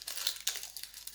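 Coffee-dyed grease-proof paper crinkles close up in a brief, soft run of papery rustles and small crackles, with one sharper crunch near the middle.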